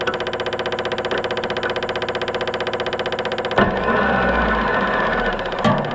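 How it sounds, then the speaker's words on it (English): On an Oliver 1250 tractor with a FIAT 415 petrol engine, a failing starter motor grinds in an even, rapid rhythm for several seconds, then changes to a rougher, steadier drone with a short sharp burst near the end. "I think my starter just gave up the ghost."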